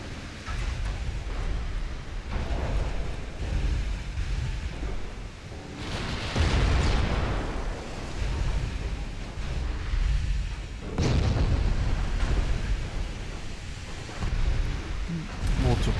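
Torpedo hits explode against a warship in a naval video game, two big rumbling blasts several seconds apart over continuous rumbling battle noise, with a voice talking.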